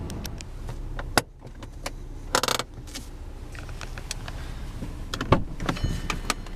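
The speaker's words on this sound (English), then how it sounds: "All four windows are automatic." Power windows on a 2008 Volkswagen GTI produce a low, steady motor whir inside the cabin, broken by a few clicks and clunks, then a short burst of rattling near the middle and another thump near the end.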